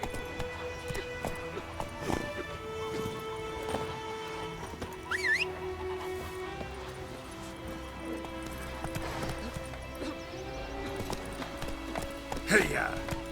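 Roach the horse in The Witcher 3 trots with steady clip-clop hoofbeats, with a brief whinny partway through, under music and someone speaking.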